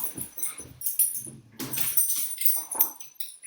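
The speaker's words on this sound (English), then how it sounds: "how much noise can 2 dogs make?" Dogs make scattered barks and yelps at a moderate distance, several short bursts in quick, irregular succession.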